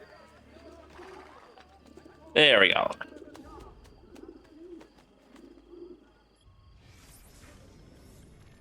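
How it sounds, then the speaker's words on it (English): A pigeon coos in the video game Assassin's Creed Brotherhood, a brief close call among game ambience, with someone talking over the scene and a sharp crash-like burst nearby. "Oh, I hear the pigeon coo. Okay, so it's a pigeon coo and not a tower."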